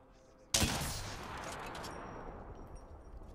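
Gunfire in Apex Legends sounds out as a sharp, loud burst of shots that cracks suddenly and then fades into a rumbling echo.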